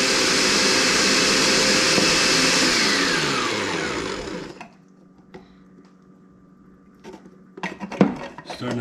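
A food processor whirs loudly and steadily, blending egg yolks into homemade mayonnaise, then winds down and stops around the midpoint, leaving quiet clinks and a few sharp handling knocks near the end.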